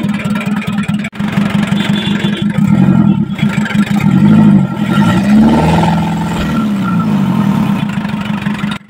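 An Isuzu 4BC2 diesel engine with its air cleaner and intake removed starts with a brief crank, then runs loud and close, idling roughly and rising and falling through several revs with a steady mechanical clatter.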